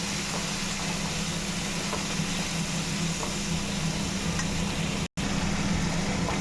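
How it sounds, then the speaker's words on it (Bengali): Spices for Tel Koi fish curry fry and get stirred in a pan over a low gas flame, giving a steady, faint sizzling hiss throughout. "এই যে মশলাটা কষাচ্ছি আস্তে"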